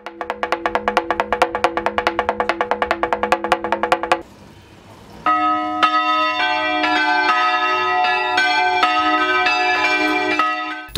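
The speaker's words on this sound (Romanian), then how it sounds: "după ce se bate toaca, se dau drumul la clopote" Computer-operated church bells ring loudly and close, first in rapid repeated strikes, then after a short pause a fuller peal of several bells sustains and overlaps.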